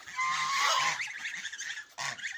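A duck quacks loudly and harshly at close range after feeding and drinking, two raucous honking calls separated by a brief pause.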